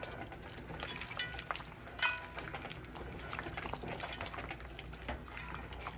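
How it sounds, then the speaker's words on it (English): Oxtail gravy with butter and baked beans being stirred in a pot for a Jamaican-style oxtail dish, giving soft wet scraping and liquid sloshing with a brief louder clink, steady and close with no talking. "let's stir this in"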